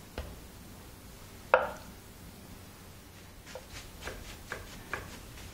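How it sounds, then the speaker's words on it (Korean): A kitchen knife cuts a block of tofu into thick slices on a cutting board. There is one sharp knock followed by a short series of soft, evenly spaced chops, close and fairly quiet, with no talking. "두부는 도톰하게 잘라주세요"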